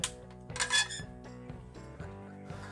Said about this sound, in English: let's get the pan on a really high heat